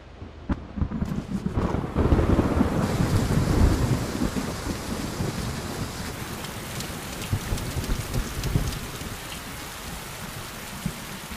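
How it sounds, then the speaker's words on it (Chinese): A sudden heavy rainstorm with thunder: loud, dense rain pours steadily with deep thunder rumbling through it, swelling in the first few seconds and then holding a constant downpour, with no voices. "怎么突然下雨了呢？"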